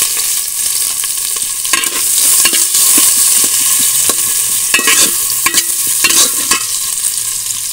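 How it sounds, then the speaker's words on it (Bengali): Chopped onions fry in oil with dried chillies and whole cumin, a steady close sizzle broken by repeated scraping and stirring strokes, with no talking. "পেঁয়াজটা একটু ভালো করে ভাজবো।"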